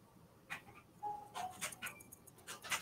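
A dog barks indoors in a series of short, sharp yelps spaced unevenly, fairly close and moderately loud, with no talking over them.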